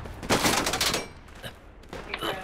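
Machine gun fire in the military shooter game Project Reality, a loud burst of rapid gunfire followed by scattered sharper shots and thumps, close and intense.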